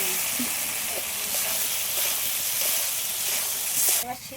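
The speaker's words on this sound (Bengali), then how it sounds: "এবার ভেজে রাখা ডিমগুলো দিয়ে দিলাম।" Fried eggs drop into a pan of ginger-garlic spice paste, which keeps up a steady, close sizzle with faint stirring scrapes and a brief clatter near the end.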